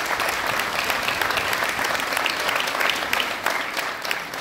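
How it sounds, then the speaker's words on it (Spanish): A crowd at a Christmas food-basket handout in Tierra Blanca claps vigorously and continuously, a thick, steady roar of hands with no pause throughout. "Fuerte el aplauso, don José."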